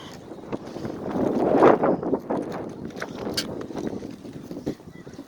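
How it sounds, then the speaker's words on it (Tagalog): Gusty wind buffets the microphone outdoors, rising to a loud rush early on, with faint voices and movement beneath the roar. "malakas ang hangin."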